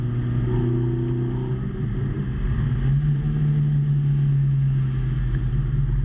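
A tractor racing flat out around a circuit lap, its engine droning loud and steady at close range, with a low rumbling tone that rises slightly in pitch midway as it pushes on.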